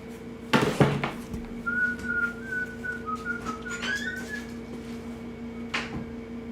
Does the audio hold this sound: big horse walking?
no